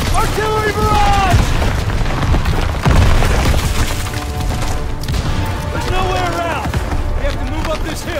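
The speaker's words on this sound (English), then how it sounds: "Artillery barrage!" Artillery barrage explosions in the World War II shooter Call of Duty: WW2, heavy booming blasts and crackling debris rolling continuously under a dense battle soundtrack with voices shouting throughout.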